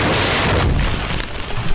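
A house is blown up with explosives by soldiers in the West Bank, producing a loud, close, rumbling blast that fills the whole short stretch.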